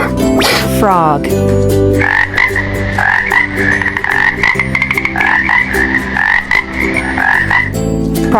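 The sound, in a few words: frog croaking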